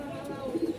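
A pair of Lahori pigeons coo softly at close range, a few short low repeated notes near the end of a brief moment, with faint background noise.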